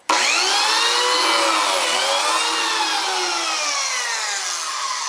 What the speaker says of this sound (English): And just like that, I have a slot for a biscuit.